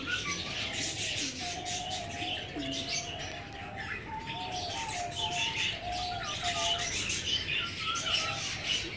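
Pet lovebirds in an aviary, a busy chorus of close chirps and tweets with some cooing, continuing without pause.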